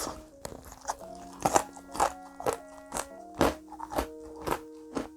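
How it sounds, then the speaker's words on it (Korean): Repeated crisp crunches as a crunchy fried chicken wing is bitten and chewed, close and loud, about a dozen sharp cracking bites in steady succession. "강냉이 깨지는 소리가 나."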